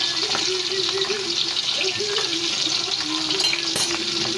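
Fish fillet frying skin side down in hot oil, a steady loud sizzle and crackle that fills the whole stretch without pause.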